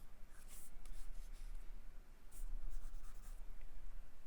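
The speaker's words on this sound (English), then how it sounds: "Erase where you need to erase." A pencil drawing is corrected with an eraser, producing soft, close rubbing strokes in short bursts with brief pauses, quiet and without talk.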